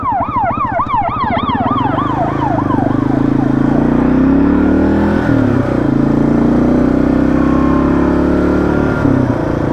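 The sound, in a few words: Kawasaki KLR650 motorcycle engine revving while riding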